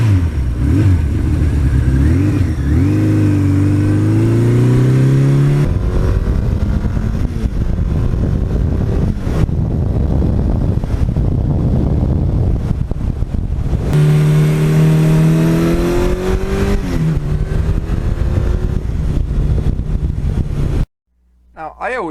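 A 1982 Suzuki GS1100E motorcycle engine revs loudly nearby, rising and falling through repeated throttle blips over a steady idle, then cutting off at the end.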